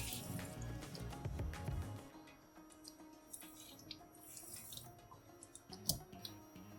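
Peeled potatoes rinsed under a running kitchen tap, a steady faint hiss of water with scattered splashes and clunks as they are handled, no one talking.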